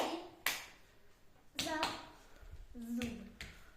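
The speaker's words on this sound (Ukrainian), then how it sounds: "Два рази плескаємо" Children playing an attention game in a classroom give a couple of sharp double hand claps spaced a second or so apart, mixed with brief young voices calling out between them.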